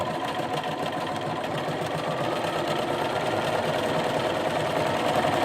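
A Bernina Aurora 430 sewing machine stitches steadily, a continuous close mechanical whir with no pauses and no voices.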